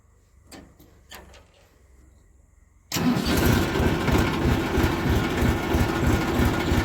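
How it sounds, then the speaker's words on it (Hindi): A few quiet clicks, then a tractor engine with a rotavator attached abruptly roars to life and settles into a loud, steady, pulsing idle. "और अभी स्टार्ट होगा जी ट्रैक्टर।"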